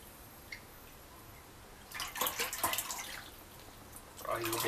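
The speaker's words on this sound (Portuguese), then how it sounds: "Então aqui nós vamos colocando a água." Water poured into a tub holding artisanal Parmesan cheeses, a splashing, trickling rush that comes in bursts with a brief pause between, fairly close and moderately loud over low background noise.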